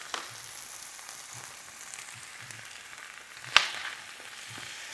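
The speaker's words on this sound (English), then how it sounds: "Now we're going to put our fish in." Fish goes into oil flavored with pepper, pimento seeds and garlic over a low flame, producing a faint, steady sizzle broken by one sharp metallic clink.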